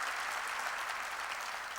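Steady applause from a church congregation during a sermon, dense and even, moderately quiet with no voices.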